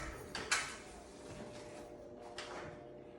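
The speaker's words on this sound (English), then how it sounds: "gotta love them creaky ladders. Yep. Brand new too. Listen to that thing." A brand-new ladder creaks during crown molding installation on an octagon ceiling, with a few short creaks and knocks against a faint room hiss.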